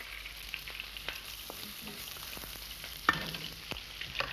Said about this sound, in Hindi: इस तेल को अच्छी तरह से गर्म कर लेते हैं। अब हम इसमें डालते हैं लहसुन का पेस्ट और अदरक का पेस्ट।